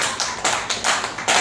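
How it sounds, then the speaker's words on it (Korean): Audience clapping at a North Korean defectors' community gathering in Incheon, a short burst of applause with uneven sharp taps rising and falling in loudness. "박수 한번"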